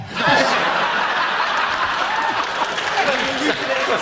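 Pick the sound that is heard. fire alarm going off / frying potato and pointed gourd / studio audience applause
studio audience applause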